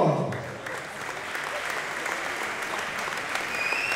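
A crowd at a kickboxing fight night applauds to welcome fighter Saskia Deffremo, steady dense clapping from an audience in a hall, with a faint voice under it at the start.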